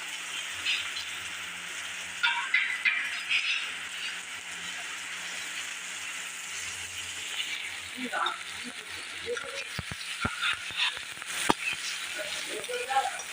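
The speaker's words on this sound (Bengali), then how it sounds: "পুরো পেঁয়াজটা দিয়ে কিছুক্ষণ ভাজবো" Onion, ginger and garlic fry in mustard oil in a home kitchen pan, a steady hiss of sizzling throughout, with a few sharp clinks and stirring knocks toward the end.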